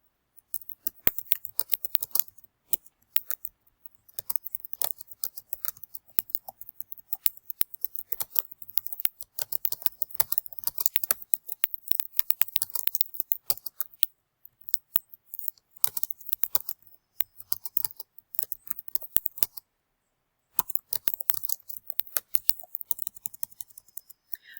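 Dense, crisp clicking of computer keys in bursts of typing, close and fairly quiet, with a short pause near the end.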